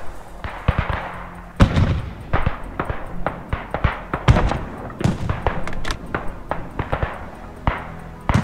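A grenade blows up in the World War I shooter game Beyond The Wire, heard among a busy run of sharp in-game gunshots and thuds, with close loud impacts repeating throughout.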